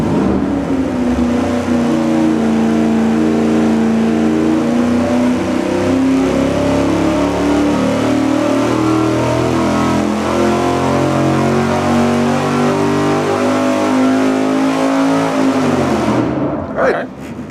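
A carbureted engine roars at steady high load through a dyno pull run without a carburetor spacer, loud and close, holding a constant droning pitch before cutting off near the end.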